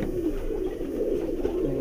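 High flyer pigeons coo nearby, soft throaty low calls rolling continuously with no talk.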